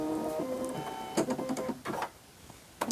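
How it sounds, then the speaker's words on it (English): A sewing machine's automatic needle threader running after its button is pressed: a close mechanical whirring hum with a couple of short clicking bursts and brief motor buzzes, with no voices. "I'm going to push the needle threading button."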